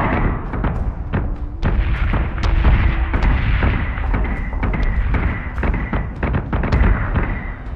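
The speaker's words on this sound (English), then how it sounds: "Missiles away." Missiles launching in the space combat game Battlestar Galactica Deadlock make a loud, dense volley of thumping launches and booming blasts that overlap continuously, with no speech.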